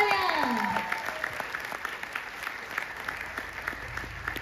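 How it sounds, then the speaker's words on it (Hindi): Audience clapping at a stage event, a sustained, moderately distant patter of many hands after a brief spoken cue at the start. "सूर्या जी के लिए जोरदार तालियां।"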